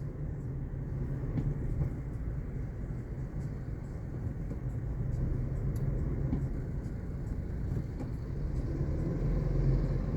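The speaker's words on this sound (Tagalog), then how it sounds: "Sobrang traffic dito sa may papuntang Naiyax" Heavy traffic crawls along the southbound NAIA Expressway skyway in Manila, making a low, constant rumble of engines and tyres that holds steady at moderate loudness.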